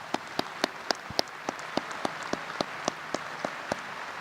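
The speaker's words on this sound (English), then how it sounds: "Let's have another round of applause for the class of 2018" A graduation ceremony crowd honoring the class of 2018 claps in a room, with sparse distinct hand claps standing out at a slow, fairly even rhythm over a soft wash of applause.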